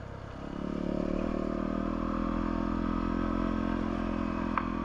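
A motorcycle engine drones steadily at a near-constant pitch on a rocky road, with faint rattling and clatter from the rough, bumpy surface.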